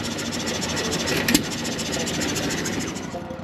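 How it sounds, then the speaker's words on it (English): A hit-and-miss engine drives an ice cream maker at a tractor show, giving a steady, fairly loud mechanical chugging and rumble throughout, with one brief sharp knock partway through and outdoor crowd noise behind. "So this hit and miss powered ice cream maker is pretty cool."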